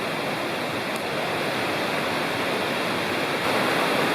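Citico Creek in the Cherokee National Forest rushes steadily beneath a trail bridge, a loud, continuous broadband wash of flowing water with no break, close by and alone.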